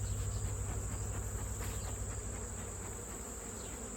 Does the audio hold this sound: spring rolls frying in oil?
no